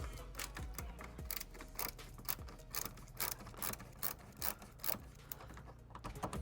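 Allen key screws being undone on the rear bumper of a Porsche Cayenne, a close, rapid run of small clicking ratchet ticks repeating steadily throughout, with no talk.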